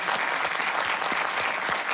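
Studio audience at a talk show breaks into steady, dense applause, continuous clapping from many hands filling the room without pause.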